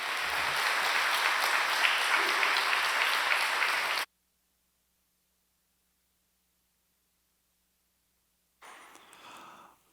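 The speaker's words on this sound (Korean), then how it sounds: "우리 목사님 나오실 때 다시 한번 뜨거운 박수로" A church congregation gives warm applause to welcome the pastor, loud and steady for about four seconds, followed by silence and then a shorter second burst of clapping.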